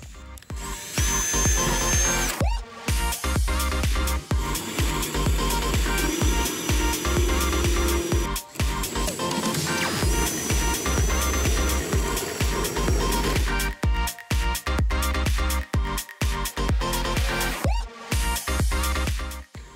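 A power drill with a spade bit bores holes into the wooden panel of an arcade cabinet being restored, a loud, sustained whirring grind with brief pauses and restarts, close up and with no talking.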